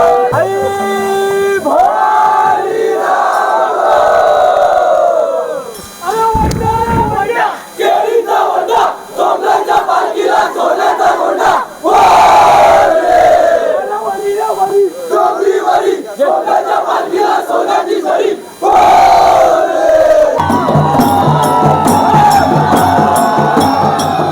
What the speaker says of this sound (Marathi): चला तर हा जल्लोष आता सुरुवात झालेली आहे